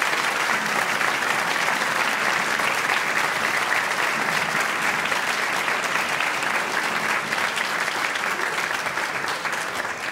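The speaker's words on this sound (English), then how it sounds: "can we have a round of applause for our six flutists in the audience?" Sustained audience applause at a wind ensemble concert, many hands clapping in a dense, even roar that continues at full strength from start to finish.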